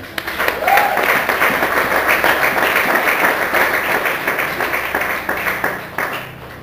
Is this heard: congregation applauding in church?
yes